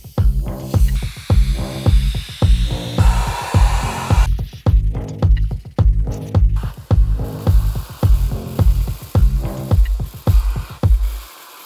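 A vacuum cleaning the seats of a Porsche Cayenne, running loud and close with a rhythmic pulsing whoosh as the nozzle works back and forth over the seat crevices, about a dozen strokes.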